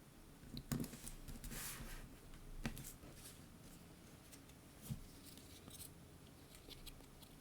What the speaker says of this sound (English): we'll trim off anything that hangs off the edge